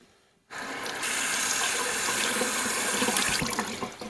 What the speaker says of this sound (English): I like giving my mushrooms a little bit of a rinse.